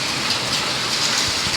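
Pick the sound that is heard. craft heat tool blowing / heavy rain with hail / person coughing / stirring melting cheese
heavy rain with hail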